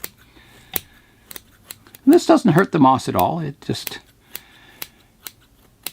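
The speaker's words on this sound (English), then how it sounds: "So I've got my curved scissors, and I'll just come in and take a bit of the moss off the top here" Curved scissors snipping moss on top of a hibiscus bonsai, a series of sharp, close clicks spaced through the clip while someone talks in the middle.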